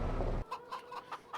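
Chickens on a farm in the video game Farming Simulator 25 give a short run of soft, evenly spaced clucks, heard clearly after a brief burst of louder noise.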